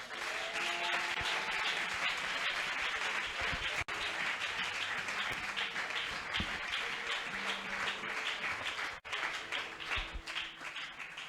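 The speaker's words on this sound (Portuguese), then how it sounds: "Palmas para o nosso jovem talentoso." Sustained audience applause at a Christian provincial conference in a church hall, a dense steady wash of many hands clapping for a young speaker, loud and continuous for the whole stretch.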